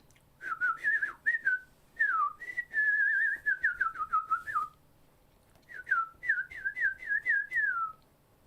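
A person whistles a bird-song imitation in clear repeated bursts of rising and falling chirps, two phrases separated by a short pause, close and alone with no talking.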